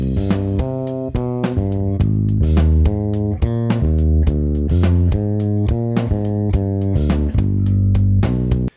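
Bass guitar plays a four-bar syncopated sixteenth-note funk groove, a timing workout; clear, punchy plucked notes with short gaps repeat in a tight, steady pattern, loud and close, no voices.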